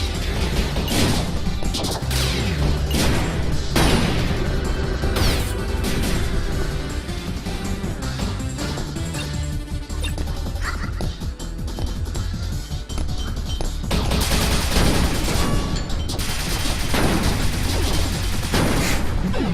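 Dense, continuous barrage of plasma shots and explosions in the shooter game Copy Kitty, loud, crashing bursts stacked on one another over driving background music for the whole stretch, with no talk.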